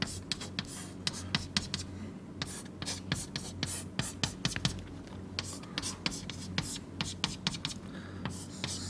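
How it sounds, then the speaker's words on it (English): Pen strokes scratching on paper while transistors are drawn for a circuit diagram, quick irregular scribbles close up, with faint speech here and there. "here I'll just draw the transistors first"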